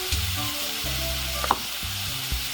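Apples frying in margarine with a little sugar in a pan, a steady soft sizzle with a few stirring clicks and scrapes, close and moderately quiet.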